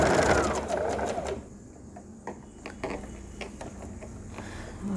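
Sewing machine stitching along a cut edge in saree fabric: a fast whirring run at first, then quieter, uneven bursts of ticking stitches with short pauses.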